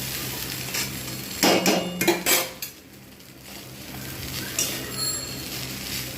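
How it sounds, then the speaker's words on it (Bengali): A utensil stirs and tosses egg chowmein ingredients in a metal pan, giving loud clattering scrapes and clanks in a burst near the start, then quieter scraping. No one speaks. "এইভাবে আমি সমস্তটা মিক্স করব।"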